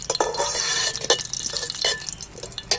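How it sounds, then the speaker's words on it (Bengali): Whole cumin seeds frying in hot mustard oil in a pan, a steady close crackle and sizzle with a few clinks of a stirring spoon against the metal. "জিরেটা আমি একটু ভেজে নিচ্ছি তেলের মধ্যে"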